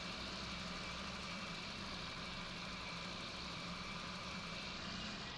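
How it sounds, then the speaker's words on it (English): A John Deere tractor engine runs steadily in Farming Simulator 19, a low continuous drone with a faint hum, heard alone at moderate distance with no change in pitch. "Oh, I absolutely love this little tractor."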